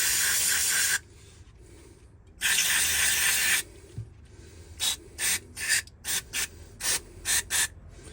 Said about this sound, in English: So what I would use now would be carb and air take cleaner.